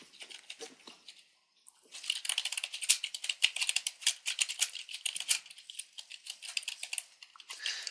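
Fingers type on a computer keyboard in quick, irregular bursts of close, crisp key clicks with short pauses between them.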